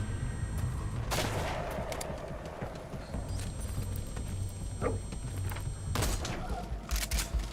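Unsuppressed gunshots ring out in Metal Gear Solid, several loud sharp cracks spaced a few seconds apart over a busy, rumbling battlefield background.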